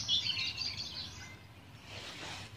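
Ducklings peeping by a pond, soft high chirps close by in a short quiet stretch, with no voices.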